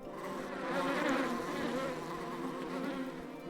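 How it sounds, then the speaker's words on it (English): Bees buzzing around a beehive in the game Book of Hours, a continuous droning hum of several insects that swells slightly and holds steady, with no voices. "So there is a beehive."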